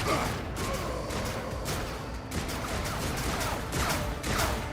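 Dense gunfire in a grim dark future war game fills the scene as a constant, loud, chaotic roar of overlapping shots and crashes with no clear breaks.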